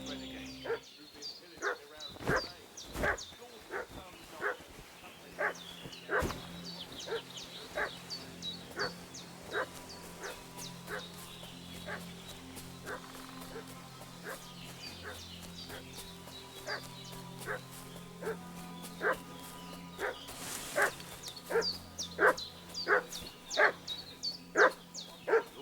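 A dog in the video game Kingdom Come Deliverance II barks repeatedly and insistently at mid distance, sharp yaps and woofs in irregular runs over low background ambience, with occasional whimpers.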